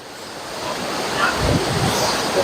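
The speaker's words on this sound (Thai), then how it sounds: "โอ้ยน้ำกระชอกย่งแรงเลยอะกล้องเปียกหมดแล้ว" Strong water splashing and waves hitting the camera, a continuous loud rushing wash with wind buffeting the microphone and surges that build toward the end.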